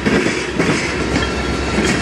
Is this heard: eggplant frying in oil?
no